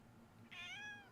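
A pet cat gives a single clear, rising meow, close but fairly quiet, after a brief moment of near silence.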